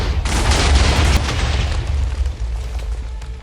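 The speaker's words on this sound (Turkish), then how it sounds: "Abi çok fena patladılar." A loud explosion in the video game Minecraft, a sharp broadband blast that rumbles on and slowly fades over several seconds, with no talking.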